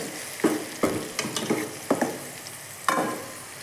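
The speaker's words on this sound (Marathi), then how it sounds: "घालूयात आणि मस्त थोडा वेळ तेल सुटे तोपर्यंत भाजून घेऊयात" Onion-masala paste for egg masala frying in hot oil, a steady close sizzle broken by several sharp scraping stirs of a spoon against the pan, with no talking.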